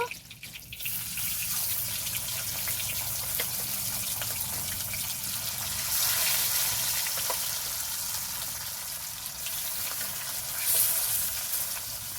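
Rohu fish pieces frying in hot oil, a steady dense crackle and sputter throughout with occasional louder pops, no voices.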